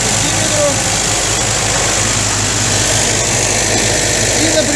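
A UAZ engine idling with slightly fluctuating revs, a loud steady mechanical drone with a constant hum recorded close, and no talking.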